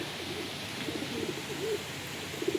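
A racing pigeon at a loft during a derby gives soft, low cooing calls in several short bursts against a steady outdoor hiss, with no voices.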